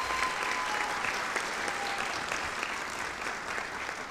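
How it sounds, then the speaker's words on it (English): Audience applause at a high school National Honor Society ceremony, a steady wash of many hands clapping at moderate distance, sustained for the whole span without speech. "If we can give him a round of applause, we'd appreciate it."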